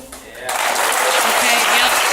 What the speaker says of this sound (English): How about a big round of applause for everybody here tonight who's in recovery?